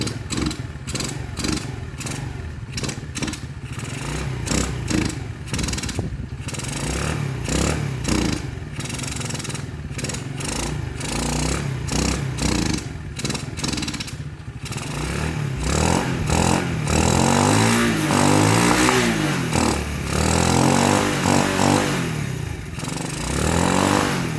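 An Ice Bear Champion motorcycle fitted with a Nibbi PE24FL carburetor and a UNI air filter runs steadily and loudly nearby, its rough clattering idle swelling into revs toward the end.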